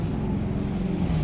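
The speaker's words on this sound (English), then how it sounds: "Where are these loud cars going?" Loud cars pass close by, giving a continuous heavy rumble of road traffic that fills the whole moment. No voices are heard.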